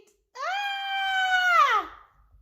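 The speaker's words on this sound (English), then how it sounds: "Yikes! It's a spooky ghost, screams Pete" A child's frightened scream at a spooky ghost on a Halloween doorstep: one loud, drawn-out, tonal cry lasting about a second and a half, bending downward at the end.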